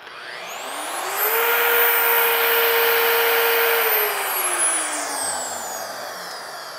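A Vevor magnetic drill bores into metal, its motor whining up to a steady high pitch for several seconds before winding down, loud and close with no talk.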